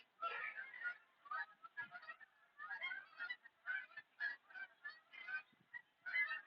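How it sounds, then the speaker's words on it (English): A flock of geese honks loudly and continuously outdoors, with overlapping calls in an irregular chatter and nothing else audible. "Flock of geese. My goodness, they're loud."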